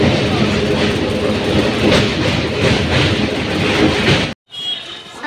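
Train passing near Mecheda station, a loud steady rumble with rhythmic clatter of wheels that cuts off abruptly near the end, leaving quieter background.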